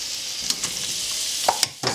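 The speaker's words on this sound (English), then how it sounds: "We're going to saute the vegetables." Mushrooms, peppers and onions sauté in grapeseed oil over medium heat, giving a steady close sizzle with a few light stirring clicks and scrapes scattered through it.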